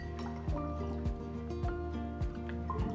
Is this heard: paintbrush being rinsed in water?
yes